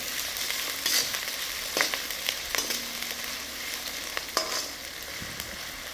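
Carrots and other vegetables are stirred into egg fried rice in a hot pan, a constant sizzle broken by several scraping strokes of the spatula, close and fairly quiet, with no talking.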